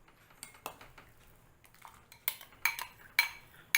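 A spoon clinks and scrapes against a metal pot while jaggery kheer is stirred, giving a scattered series of sharp taps that grow louder toward the end, with quiet room tone between them.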